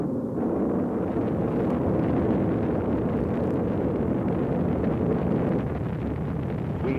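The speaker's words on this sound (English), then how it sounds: "We have main engine start." Rocket main engines igniting before launch, a continuous heavy low rumble that swells in quickly and then roars steadily and loudly with no other sound.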